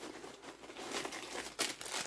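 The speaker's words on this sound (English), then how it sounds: "Extra plastic bags, just because." Plastic bags are handled and crinkled up close, soft irregular rustling and crackling with a sharper crumple near the end, quiet and alone without talk.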